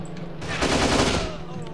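Machine-gun fire in the shooter game Kane & Lynch 2: Dog Days, one loud, sustained burst of rapid automatic shots lasting about a second, close and alone.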